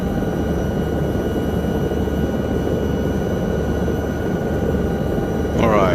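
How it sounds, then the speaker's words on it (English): A helicopter flown low over Alpine mountains in a flight simulator game on a rescue mission gives a steady, loud rotor and engine drone with no let-up, and a brief sharper burst of sound at the very end. "if you're flying low with a helicopter like this"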